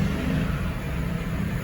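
A Mercedes C220 with a newly replaced manual gearbox rolls forward, its engine a steady low rumble close by, with no talk.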